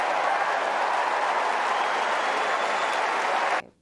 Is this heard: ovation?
yes